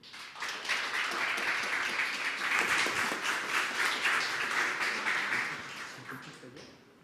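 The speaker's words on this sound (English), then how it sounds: "So please, a big round of applause to Artem from Hinted." A demo day audience applauds steadily throughout, a dense wash of clapping that fades slightly toward the end.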